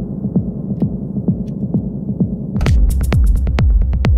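A deep delay effect on an Elektron Octatrack repeats low, throbbing percussive hits in a steady pulse, then the texture thickens with brighter clicking echoes layered over a heavier booming beat.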